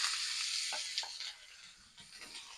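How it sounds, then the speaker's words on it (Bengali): Pointed gourd pieces sizzle in hot oil in a wok, a steady close frying hiss with a few brief louder crackles and stirring scrapes, softening slightly toward the end. "ওই কড়াই আমি তেল দিয়ে দিলাম এবার পটলগুলো দিয়ে দিলাম"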